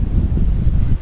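Strong wind buffets the microphone at a cliff edge at Cape Greco, a loud, continuous low roar without a break for the full second.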